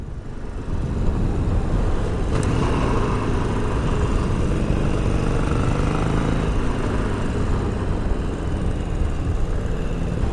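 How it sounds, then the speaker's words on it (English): A motorcycle idling after a Fuel Pak FP3 tune, its exhaust giving a steady, smooth low rumble that holds constant throughout with no revving, close to the microphone. "The exhaust note's actually a little bit different now, and it's so much smoother."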